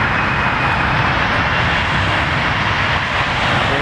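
An Embraer 140 or 145 regional jet taking off at O'Hare, a loud, steady, broadband engine roar that fills the clip without a break.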